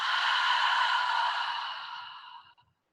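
A long, audible exhale through the mouth during a calm yoga session, close and steady, then tapering off into silence, with no voices.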